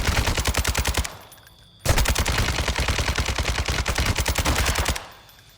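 Loud, rapid automatic gunfire from a firefight with a sniper in Call of Duty DMZ, two long sustained bursts of evenly spaced shots split by a short pause, with no talking.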